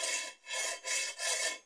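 Part of a homemade drill stand sliding along its guide, four smooth rubbing strokes in a steady back-and-forth rhythm, close and faint, with no voices.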